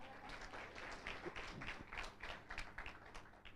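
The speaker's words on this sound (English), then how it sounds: "please just give them beautiful energy and a big round of applause as I call up their names" Audience applause at a business event for small enterprise founders, a steady wash of clapping from a crowd that stays moderately loud throughout, with a few sharper individual claps standing out.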